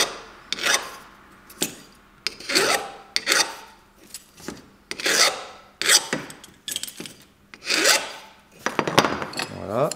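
A fine hand file deburrs the inside of the tube and the tip of a Grivel ice screw, making about a dozen rasping strokes in a steady back-and-forth rhythm, close and fairly loud, with no talking.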